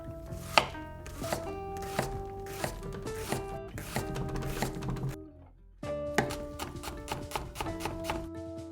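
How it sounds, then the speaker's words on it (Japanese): Coarse chopping of an onion with a kitchen knife on a cutting board, a steady run of crisp taps and thunks with a short pause midway, close and clear over light background music, no voices. "玉ねぎを粗みじんにする。"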